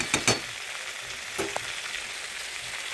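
Potato and cauliflower curry cooks in a pan with a steady broadband frying sizzle, broken by a few sharp stirring scrapes near the start and another around the middle; no voices.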